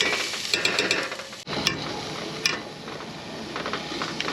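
Onions sizzle and crackle in a pan on a luxury base-camping trip in Arizona, a steady close frying hiss with small ticking clicks and a brief clatter partway through, no voices.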